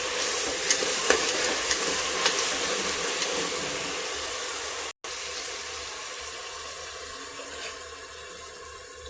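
Ground paste with green chillies and ginger-garlic sautéing in a pan for tomato rice, a low, steady sizzle with faint stirring clicks and a brief dropout midway.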